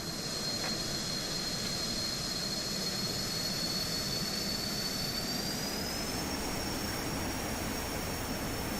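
A G39 Griffin jet fighter in Microsoft Flight Simulator roars steadily through takeoff, a loud continuous turbine rush with a high whine that rises in pitch partway through, with no voices over it.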